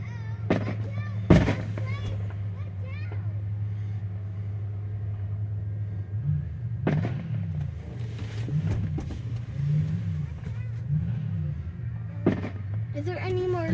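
A fireworks show at a county fairground sends out a few sharp bangs, two close together early and more spread near the end, over a steady low rumble and intermittent voices.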